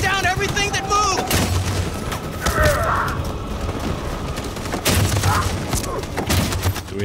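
Machine gun fire in Detroit: Become Human comes as repeated loud cracking bursts in clusters, mixed with booming impacts, while voices and shouts sound in between.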